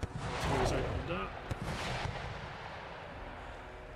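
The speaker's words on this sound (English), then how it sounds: "Artillery's opened up." Artillery fire in the video game Empire Total War, with a cluster of sharp booming reports early on and a few more blasts mid-clip before the battle noise thins out.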